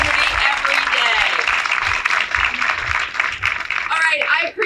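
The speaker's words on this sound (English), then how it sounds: "can we give a round of applause to these folks who contribute this morning and to your community every day?" Audience applause at a library branch grand opening, a steady wash of clapping throughout with a few cheers or voices mixed in, loud and sustained.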